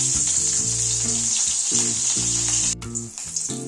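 Chopped green chili hits hot oil in a wok for a rui posto fish dish, producing a loud, close, dense sizzle and crackle that carries throughout, with low tonal hum beneath and a brief dip near the end.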